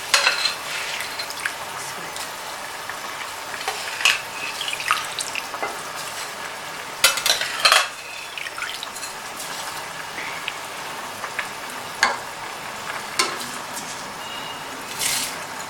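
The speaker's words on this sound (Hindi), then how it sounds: "अब हम इसमें चावल शामिल करते हैं।" Rice is added to a pot of boiling chana dal for khichdi and stirred, giving continuous bubbling and sizzle with scattered scraping and clinking knocks from the spoon against the pot.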